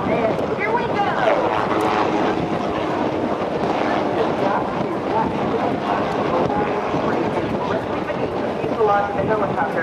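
Helicopter lifting off at a naval air station airshow: a loud, steady roar of engine and rotor with wind buffeting, continuous and unbroken for the whole stretch.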